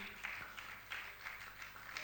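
Scattered audience applause honouring newly recognised trustees at a Jain religious gathering in Jharkhand, with faint, uneven claps recurring in loose bursts over a steady murmur of the hall.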